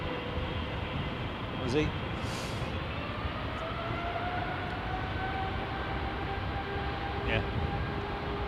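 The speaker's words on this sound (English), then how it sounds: "Okay, big spool up. Qatar 777." A Qatar Airways Boeing 777-300ER at London Heathrow's runway 27R spools up its engines to a steady, loud roar with a rising whine, while people talk briefly nearby.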